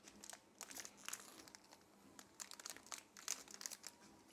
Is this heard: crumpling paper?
yes